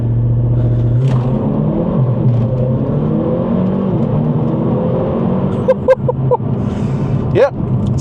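A Mercedes A45 AMG revs and pulls away hard under launch control, engine note climbing in rising harmonics with whooshing bursts near the end, while people talk over the car.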